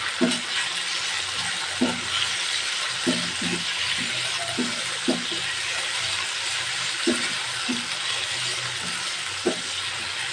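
Ginger garlic paste frying lightly in a pan for a chicken and mung dal dish, a steady broadband sizzle running throughout with scattered short clicks and stirring knocks at moderate volume, no talking.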